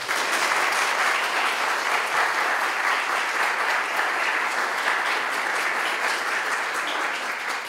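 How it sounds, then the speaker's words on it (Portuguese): A crowd applauds for startup teams at a demo day event, steady dense clapping that stays loud and continuous throughout. "palmas para esse pessoal"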